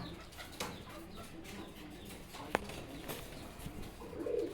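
Domestic and imported pigeons kept for sale coo softly, a low murmuring call that swells near the end over a faint background of rustling and a single sharp tap.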